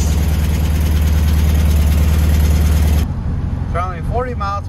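Volkswagen engine with an Evolution Two cooling fan, running steadily while driving in third gear, a loud continuous low drone that drops away partway through, followed by brief chirping sounds.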